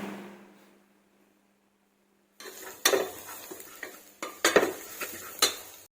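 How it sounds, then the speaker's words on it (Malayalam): Masala being stirred and mixed in a cooking pan, with a spoon scraping and clinking against the metal in irregular knocks after a quiet start, up close and with no talk. "ഇനി നന്നായിട്ടൊന്ന് ഇളക്കി യോജിപ്പിച്ചെടുക്കുക."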